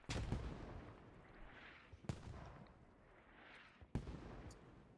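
Artillery and mortar fire in a video game battle: three sharp, loud blasts about two seconds apart, each followed by a rumbling decay, over a constant low background roar.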